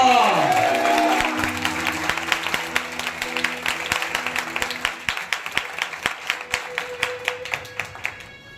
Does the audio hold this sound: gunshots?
no